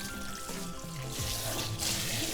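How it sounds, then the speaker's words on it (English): Hot water runs steadily from a budget $29 Amazon faucet, a constant broadband rush that swells slightly louder toward the end. "Yeah, I'm getting hot water."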